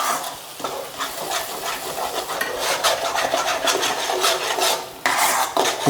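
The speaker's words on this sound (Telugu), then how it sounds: "ఇదంతా కూడా బాగా ఫ్రై చేసుకోవాలి." Chilli powder, salt, turmeric and masala frying in oil for a cashew fish curry, with a spoon scraping and stirring steadily against the pan in a continuous rasping texture.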